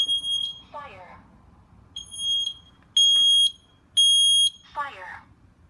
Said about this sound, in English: I'm going to press the test button. I'm going to cover it up because it's making a little noise.